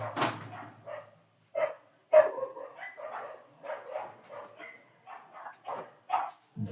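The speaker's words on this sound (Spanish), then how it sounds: "disculpen, perros por la casa." Dogs barking indoors in a house, a string of close yips and barks with short whimpers, irregular and moderately loud, mostly alone.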